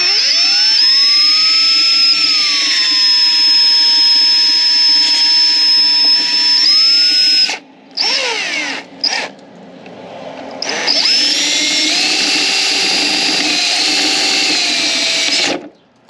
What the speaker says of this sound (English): this brake vent still looks like it's got a little rivet right here, so I'm gonna drill it out